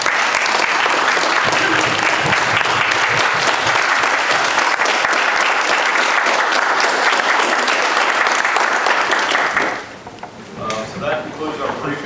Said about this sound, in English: If you'd all stand, we'd like to give you a round of applause.